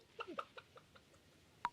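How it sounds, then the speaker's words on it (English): Chickens in the Stardew Valley farming video game giving a short run of soft, quick clucks that fade, then one louder cluck at the end, heard alone and quiet. "Chickens. Chicken."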